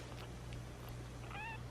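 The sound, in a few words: cat meowing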